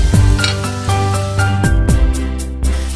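Onion, garlic, ginger and green chilli sizzle in hot coconut oil in a pan, a steady close fry with a few stirring scrapes and light utensil clinks over it.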